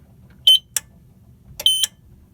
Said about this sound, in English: The alarm is currently sounding, which will silence the trouble.